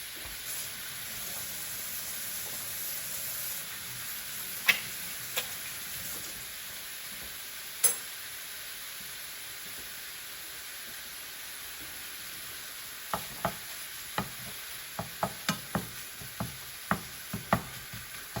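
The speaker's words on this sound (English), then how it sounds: "I like to chop it up as it's browning." Sausage browning in a pan for keto biscuits and gravy, a low steady sizzle with scattered sharp taps and scrapes of a utensil chopping the meat, growing more frequent toward the end.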